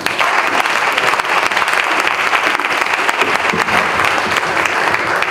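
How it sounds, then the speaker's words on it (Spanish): A lecture audience in Zacatecas gives a loud, dense, continuous round of applause that fills the hall without letup, welcoming an urban design speaker, with no voice heard over it. "Le damos un fuerte aplauso a nuestro ponente, Enrique Betancourt."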